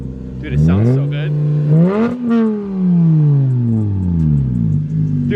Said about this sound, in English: I could hear it like burbling and crackling down there too